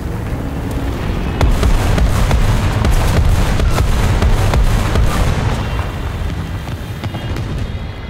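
Tank cannon fire and explosions rumble through a War Thunder ground realistic battle with a Ke-Ni light tank, heavy booms and sharp blasts stacking over a loud, continuous roar that swells after the first second and never drops away.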